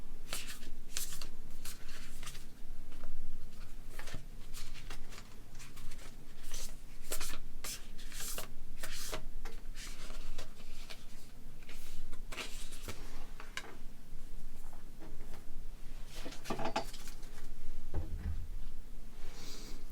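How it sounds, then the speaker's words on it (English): A tarot deck is shuffled repeatedly up close, crisp riffling bursts and soft sliding taps recurring in an uneven rhythm for the whole stretch, with no talking. "let's shuffle this deck to get your significator card out"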